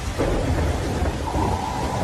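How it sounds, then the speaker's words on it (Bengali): Thunder rolls and crackles with steady rain falling throughout a stormy night scene, a dramatized storm effect of wind, snowfall and a rattling window, continuous and fairly loud with no voices. "অন্ধকারে বিদ্যুতের গর্জন"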